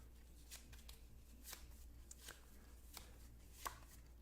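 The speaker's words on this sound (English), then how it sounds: "We shuffle them up." Lost Ruins of Arnak board game cards are shuffled by hand, giving faint, quick papery riffles and snaps in uneven bursts over a low background hum, with no voices.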